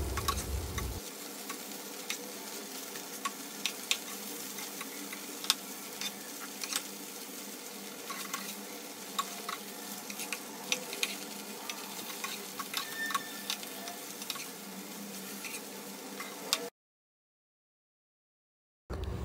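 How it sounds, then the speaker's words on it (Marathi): Paneer pieces frying in a spoonful of ghee in a pan, a steady quiet sizzle sprinkled with tiny crackles and ticks, close but soft, running alone before cutting to silence near the end. "मी इथे पनीर एकदम छान असं तांबूस कलर येईपर्यंत फ्राय करून घेत आहे।"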